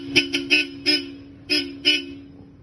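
A newly installed car horn gives six short, loud honks in an uneven rhythm, close by, with faint background noise between them.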